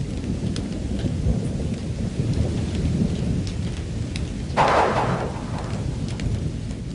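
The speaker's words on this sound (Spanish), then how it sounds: "Cuando cambia el tiempo y la lluvia golpea la entrada de la madriguera" Steady rain falls on a burrow entrance in the ground, with rumbling thunder throughout and a brief louder crack of thunder midway; no voices.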